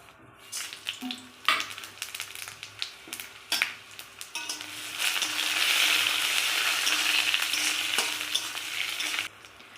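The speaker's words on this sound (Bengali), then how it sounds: "এবার আমি মশলাগুলো সব এই তেলে দিয়ে ভেজে নেব" Spices sizzle and fry in hot mustard oil in a pan for a South Indian style chicken dish, with a few stirring clatters first, then a steady, loud crackling sizzle that fades near the end.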